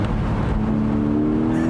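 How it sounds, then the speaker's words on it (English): A 2021 Porsche 718 Boxster GTS 4.0 launches at full throttle in first gear, its engine roaring loud, close and steady, with a strong rising tone. "put it into first gear, floor the throttle."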